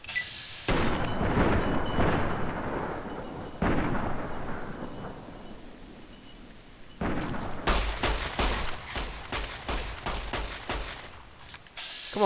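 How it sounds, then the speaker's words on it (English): Gunfire in Fallout New Vegas, three separate volleys of booming shots, the last a rapid, loud string of reports, with no talk over them. "Deputy's getting shot up now"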